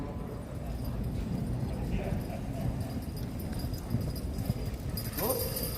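A little pair of draft horses weighing 3650 pounds walking at a Kentucky State Fair horse pull in Louisville, hooves clip-clopping steadily amid crowd noise and an announcer's voice throughout.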